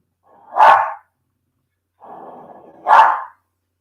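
Two sharp, loud barks from a pet dog inside a house, a couple of seconds apart, with a softer huffing sound just before the second bark.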